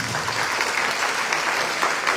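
Loud, sustained audience applause at an academic year inauguration ceremony in Chilca, Peru, with a dense crowd of clapping hands rolling on without a break.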